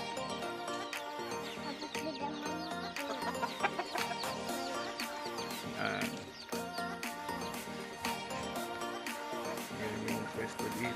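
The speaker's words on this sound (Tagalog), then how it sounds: "Meron pa ditong malalaking manok." Chickens clucking in a rural provincial yard with several large fowl, a fairly faint, busy chorus of overlapping clucks and calls continuing throughout, with occasional other bird sounds mixed in.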